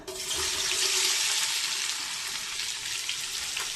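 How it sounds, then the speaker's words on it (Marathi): A steady, loud sizzle of onions frying in a pan, a dense hiss that holds evenly throughout with no talking. "पहिला आपण कांदा फ्राय करून घेऊया"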